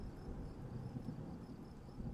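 Thunderstorm weather in the video game Kerbal Space Program: a low, continuous rumbling wash that holds steady at a soft level, with faint high chirping threaded over it.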